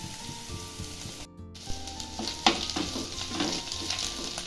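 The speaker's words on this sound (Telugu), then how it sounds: "చూడండి మనకు ఉల్లిపాయలు వేగిపోయాయి కదా" Onions frying in a pan for chicken fry crackle and sizzle, with a few sharp scraping knocks near the middle and a brief dropout early, under soft background music.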